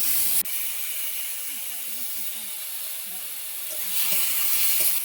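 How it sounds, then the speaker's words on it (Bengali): Masala of tomato, four to five green chillies and salt fries in a pan for a fish curry, giving a steady broadband sizzle and hiss with soft stirring scrapes, close and fairly loud, swelling slightly toward the end. "দিয়ে ভালো করে কষিয়ে নেব মশলাটাকে।"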